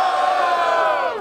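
At a live rap battle, a crowd shouts and cheers loudly for a rapper in one sustained, dense roar of voices lasting just over a second.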